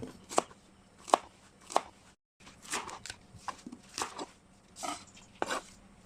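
A knife chops Chinese cabbage and other vegetables for a Thai mixed-vegetable soup, landing as several sharp, separate strikes on a board, then a brief pause and a quicker run of softer cuts, close and clear with no talk.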